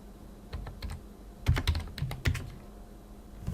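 Someone types a terminal command on a computer keyboard under Ubuntu Linux, with close, crisp keystrokes landing in quick irregular clusters and short pauses between them.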